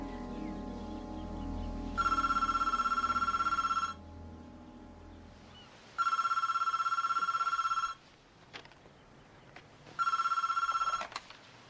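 A telephone rings in three loud two-second bursts separated by pauses, clear and close, with no voices.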